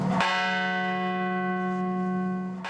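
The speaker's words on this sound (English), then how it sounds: "The bells toll in remembrance, 40 times for each of the 40 passengers and crew" A church bell tolls at a Flight 93 memorial in Pennsylvania, sounding a single loud, ringing strike whose long resonant hum lingers before a second strike near the end.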